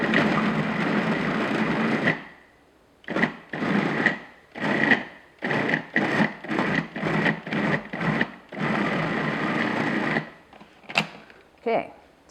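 A food processor blends a thick, full-fat filling for shortbread tarts until creamy: a loud continuous motor whir, then a run of short rhythmic pulses, then another sustained run, close by.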